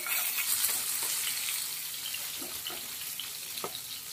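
Fish pieces fry in hot oil with a steady, close, bright sizzle and a few scattered crackling pops, with no talking.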